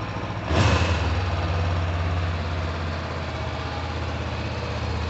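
A 2023 Honda CB500F motorcycle, a mid-size bike with only 180 km, runs at a steady idle with a smooth, moderate hum; a brief louder burst near the start settles back into an even engine drone.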